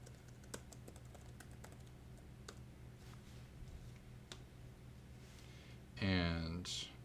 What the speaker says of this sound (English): Go ahead and type in your first name and your last name.